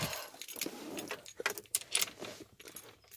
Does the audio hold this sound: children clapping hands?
no